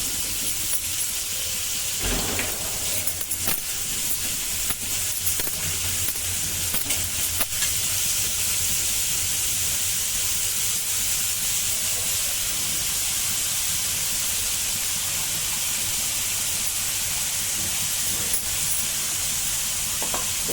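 Vegetables for veg frankie cook with salt in a pan, giving a loud, constant sizzle and hiss with a few stirring knocks near the start. No one speaks.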